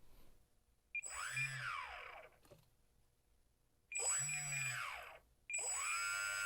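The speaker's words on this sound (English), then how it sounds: "That motor is definitely spinning counterclockwise." An RC plane's electric motor spins up in short bursts, a high whining whir with rising and falling pitch, three separate runs separated by quieter pauses, close and fairly loud.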